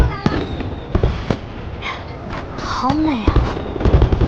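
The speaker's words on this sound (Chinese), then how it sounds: "先看烟花吧，有些事也不急着说。" Fireworks burst over a night city in a Chinese wuxia film scene, with several sharp cracks and booms and a whistling rise, while people speak softly in between.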